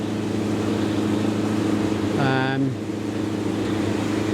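A motorboat passes on a river with a continuous engine drone throughout and a brief louder swell midway as it goes by.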